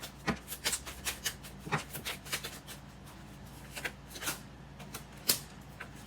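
Oracle cards are shuffled by hand in a run of quick, crisp riffles and flicks, close and fairly quiet, with brief pauses between bursts.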